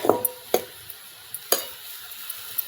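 Wild takla greens being stirred in a pan over a wood-fired stove, a few sharp scrapes and knocks of the spoon against the pan over a quiet, low sizzle.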